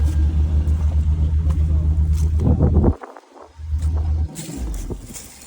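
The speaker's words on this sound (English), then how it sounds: "The engine on this one sounds really good." A damaged car's engine idles with a low, steady rumble while in reverse at a police towing auction, fairly close, dropping out briefly near the end before the hum returns.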